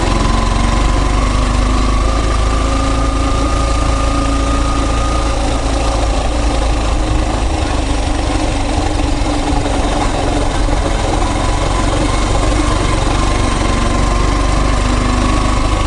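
A motorcycle engine carrying two riders runs in a steady, loud drone with a constant low rumble throughout, no voices over it.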